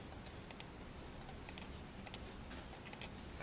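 Light typing on a computer keyboard, scattered soft key clicks in small clusters against a faint steady room hiss, quiet and close.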